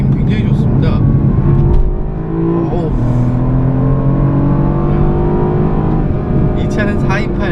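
A turbocharged BMW 428i coupe accelerates hard, its engine note rising loud and steady close by throughout, with harmonic tones climbing as revs build and a brief shift dip partway.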